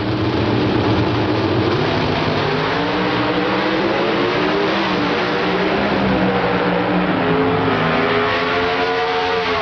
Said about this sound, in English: The RPMs begin to mount on both cars.